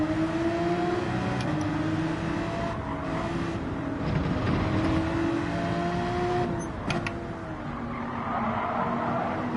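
In Gran Turismo 7, a race car engine drones loud and steady with rising and falling pitch through shifts, under brief tire squeal and other cars passing, during a race with a Porsche 911 behind a Ford GT race car.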